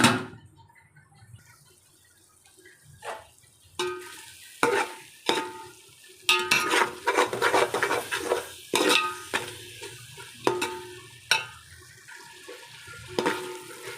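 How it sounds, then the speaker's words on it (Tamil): Tomatoes sizzle softly in a pan while a utensil stirs and clinks against the metal in irregular bursts, close by, with no talking. "தக்காளி கொஞ்சம் வதங்கட்டும்."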